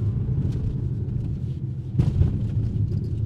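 A Jeep Compass 4xe plug-in hybrid accelerates through mud with 4x4 traction, giving a loud, steady low rumble and churning roar, with a brief surge partway through and no talking.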